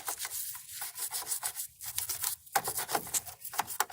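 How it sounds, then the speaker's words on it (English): Corrosion on a car battery terminal is scrubbed clean with a brush, giving quick repeated bristly rubbing strokes in an uneven rhythm, close and moderately loud with no talking. "just go ahead and scrub it really well"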